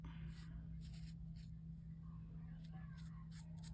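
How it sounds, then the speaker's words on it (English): A Sharpie marker sketching rough shapes on fabric: soft, faint scratchy strokes in quick repeated bursts over a steady low electrical hum, close to the listener. "Just kind of sketching with that Sharpie"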